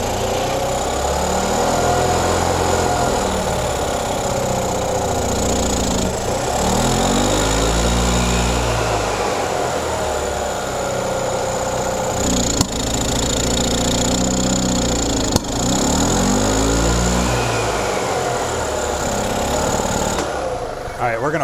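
A gas engine in a 2004 EZGO TXT golf cart runs steadily and close by, with a buzzing, small-engine drone that rises and falls in repeated surges, and a person speaks briefly over it.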